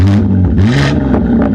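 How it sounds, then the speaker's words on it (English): A BMW G80 M3 with a 4-inch midpipe exhaust revs up close, a loud, deep rasp rising in sharp bursts with some crackle between blips. "Rev yours."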